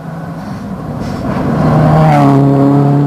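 Subaru rally car at speed on a Production World Rally Championship stage in Australia, a loud engine note rising steadily and holding high, growing closer and stronger through the short burst.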